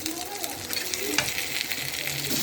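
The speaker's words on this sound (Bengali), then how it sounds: "মাছের তেলেই আমি পেঁয়াজটা ভেজে নিচ্ছি" Chopped onions fry in the oil left over from frying catla fish, giving a steady, close sizzle with occasional stirring scrapes.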